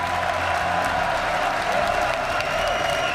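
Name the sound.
French esports crowd applauding at League of Legends Worlds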